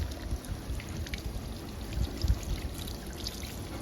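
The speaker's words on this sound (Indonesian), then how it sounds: "bilas tangan sampai bersih dengan air mengalir" Running water pours steadily from a tap as hands are rinsed clean of soap, giving a close, continuous splashing stream with uneven gurgles and spatters and no talking.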